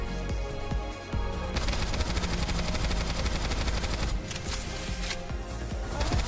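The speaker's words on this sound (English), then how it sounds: "And then we shoot the target." Rapid automatic gunfire at a target in the shooter game NIKKE: a dense, unbroken stream of shots starts after a brief lead-in and runs loud and close to the end, with scattered heavier thumps.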